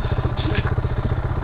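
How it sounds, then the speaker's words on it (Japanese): A motorcycle engine chugs close by with a rapid, steady throb and some mechanical clatter. "あ、バイク行った。"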